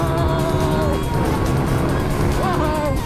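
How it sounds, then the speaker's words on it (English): A Ducati motorcycle fitted with a heavily tuned 1100 Tuono engine roars loudly and steadily at close range, its pitch climbing and dipping as the revs change throughout. "They've put the 1100 Tuono engine in it and tuned the bejesus out of it."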